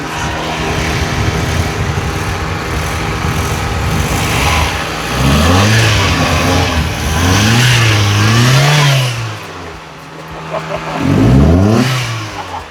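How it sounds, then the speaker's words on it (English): A used car engine with a minor leak runs steadily without overheating, then revs up in several rising and falling surges, fairly close and loud. "Oh, how good this engine is"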